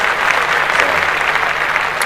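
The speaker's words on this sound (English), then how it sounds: "Let's clap that up" Podcast hosts clap in a loud, steady burst of applause that lasts the whole moment with no break.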